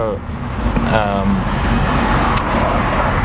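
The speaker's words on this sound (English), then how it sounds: "We're in rush hour in Sydney traffic, and literally there's not enough space for all these cars" Sydney rush-hour car traffic makes a dense, steady rumble of road noise close by, with a voice talking over it.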